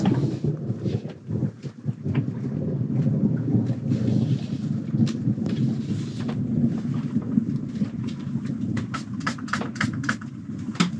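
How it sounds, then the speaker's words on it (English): Low rolling thunder rumbles directly overhead aboard a sailboat at anchor in strong wind, wind buffeting the microphone, broken by sharp cracks and rattles toward the end. "that thunder's directly overhead."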